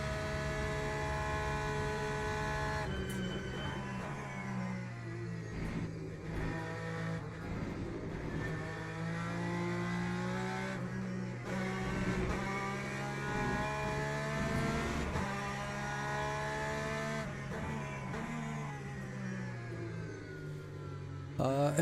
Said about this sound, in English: This engine is so loud, I hope you guys can hear me well